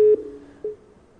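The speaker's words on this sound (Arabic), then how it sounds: "تقص الهاتف" A telephone busy tone sounds after a call-in line to a radio discussion cuts off, two short beeps of a steady pitch spaced about half a second apart, clear and alone.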